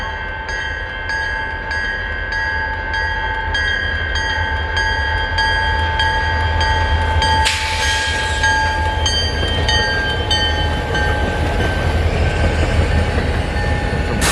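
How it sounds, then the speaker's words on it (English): A CN eastbound local freight train hauling new hoppers rolls through Battle Creek, Michigan on a cold day, a steady rumble of cars passing close with squealing wheel tones and a brief sharp burst midway, no talk. "we got a eastbound local train coming into Battle Creek"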